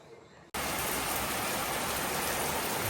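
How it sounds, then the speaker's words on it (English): Heavy tropical rain pours down over freshly laid cement on a patched wall, starting abruptly after a brief quiet moment and then holding as a dense, steady, loud hiss. "here's what tropical rain looks like. Right after I cemented that around, you can see it, the rain just coming and washing all my cement away"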